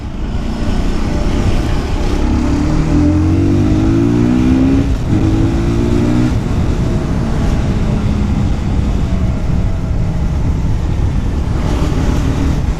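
An Orcal SK01 motorcycle exhaust roars steadily at full throttle, loud and continuous for over twelve seconds with a rising engine tone in the middle and heavy wind rush throughout.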